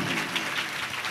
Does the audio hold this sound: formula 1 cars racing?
no